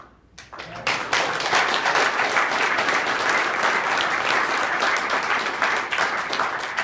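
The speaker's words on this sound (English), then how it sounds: "I got an applause on a question" After a brief moment, a large audience at a Rand Paul campaign stop at Loras College in Iowa breaks into loud, sustained applause that holds steady to the end.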